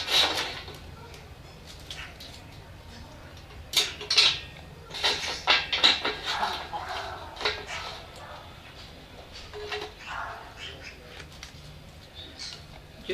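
A cooking pot is set on an Ikea hobo stove and sticks of wood are fed into it, giving a run of light metallic clinks, taps and clatters at irregular intervals over a quiet background.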